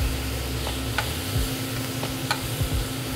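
A thin steak sizzles steadily in a hot pan as it is shaken off the heat, with a constant frying hiss broken by a few light scraping knocks.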